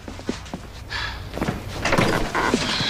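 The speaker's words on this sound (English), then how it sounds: "Close the door." A door closing with a firm knock and latch, followed by shuffling movement and room noise, no voices.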